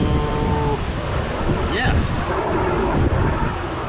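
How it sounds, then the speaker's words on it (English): Strong wind of about 20 to 30 gusting around a 2008 Winnebago Sightseer motorhome after an all-night storm, a loud steady rush buffeting the microphone, with a brief word spoken over it. "it is super windy here right now."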